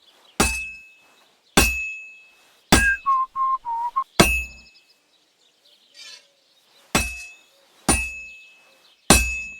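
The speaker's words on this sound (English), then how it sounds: "Now take the hammer and try hitting it a few times." A hammer strikes a heated sword on an anvil in the video game Kingdom Come Deliverance 2, sharp ringing clangs spaced about a second apart with a brief whistling tone between blows.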